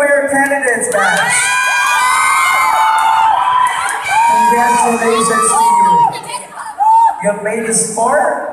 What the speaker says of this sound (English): This is your last chance to cheer for your candidates